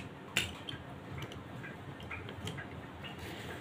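Metal lid fitted onto a pressure cooker while beef cooks in a home kitchen: one sharp clank, then a few lighter clicks and scrapes as it seats, fairly close and with no talk.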